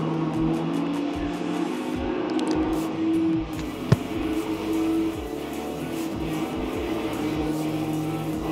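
Cars racing in Need for Speed Most Wanted on a PlayStation 2, a steady droning engine roar holding near full speed with one brief sharp knock midway, loud and continuous with no talking.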